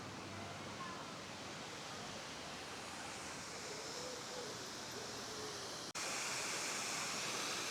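Dyserth waterfall heard from a small garden at its foot, a steady broadband rush of falling water that grows slightly louder near the end.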